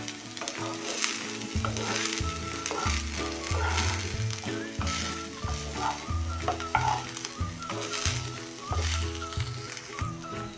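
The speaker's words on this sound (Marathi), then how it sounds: "हा भात आपण आता चांगला हलक्या हातानं मिक्स करून घेऊया भाताचं शीत मोडू न देता असा चांगला आपण परतून घेऊया" Cooked rice being gently stir-fried in a pan for a Marathi-style magic fried rice, a steady close sizzle with repeated scraping strokes of the spatula throughout, music underneath and no talk.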